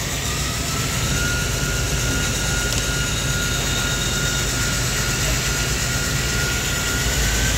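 A V-belt driven alternator with a 3-to-1 pulley ratio runs on a test rig, a steady loud mechanical whir and drone holding continuously throughout with no talk over it.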